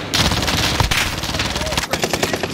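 Rapid automatic gunfire in a video game, dense bursts of shots filling the clip almost continuously with a brief pause near the end, loud and close.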